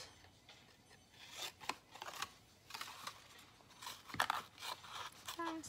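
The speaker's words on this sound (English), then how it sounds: "if you just trim off the little extra, like a triangle, and just cut those off" Scissors snipping small triangles off paper while making a stationery box, a series of faint, quick close-up cuts spaced irregularly with light paper rustling.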